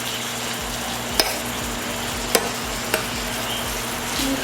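Garlic butter chicken fries in a pan with a steady, even sizzle, plus a few light clicks and taps of a utensil against the pan, alone, with no talk.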